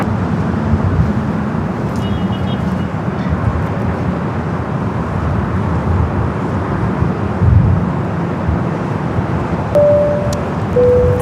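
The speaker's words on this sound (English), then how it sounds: "Flight heading to San Jose, California, this time the 737-700." A Boeing 737-700 airliner at Los Angeles LAX airport produces a steady, broad jet roar heard from a distance, with light variation over the span and no talk.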